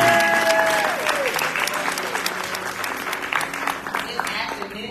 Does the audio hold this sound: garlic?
no